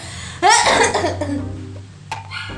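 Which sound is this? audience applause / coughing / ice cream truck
coughing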